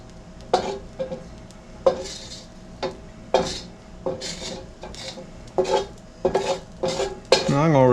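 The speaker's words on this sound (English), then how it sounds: "Now I'm just going to rake that rice out into my bowl here" A spoon rakes cooked rice out of a pot into a bowl, making about nine rough, scraping strokes at an uneven pace, close by and fairly distinct.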